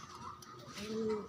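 Pigeons coo softly nearby, a low wavering call rising near the end over faint background noise, with no voices.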